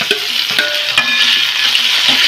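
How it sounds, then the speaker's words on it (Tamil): Dried fish fries loudly in oil in a pan for Chettinad kulambu, a bright, close sizzle with several sharp scraping stirs and clatters over about two seconds. "போட்டு நல்லா எண்ணெயிலே வதக்கணும்"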